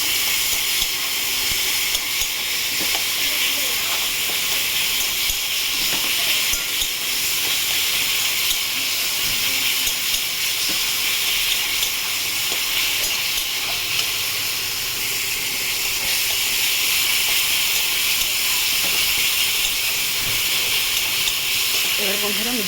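A spiced mixture with sugar is sautéed in a hot pan for a pomfret fish curry, making a loud, steady, close sizzle and hiss that continues unbroken, with faint stirring clatter underneath.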